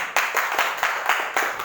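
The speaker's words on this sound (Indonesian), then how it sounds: "coba tes dulu ya, tepuk tangan coba" Students clap hands together in a classroom during a test of group clapping, producing a loud, rhythmic series of roughly unison claps, about four per second, with a slight scatter in timing.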